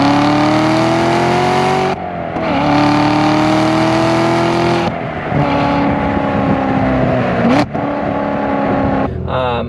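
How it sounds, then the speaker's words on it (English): A Corvette C7 Z06 engine snarls loudly through its exhaust over several gear changes, rising revs dropping between shifts, with a sharp pop and crackles near the end. "especially with this engine on the exhaust, with the snarl and the crackles and the pops"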